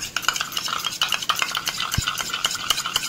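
Sour yogurt being whisked with a spoon in a bowl, with quick, even clicking and scraping strokes in a steady rapid rhythm and a single soft thump partway through.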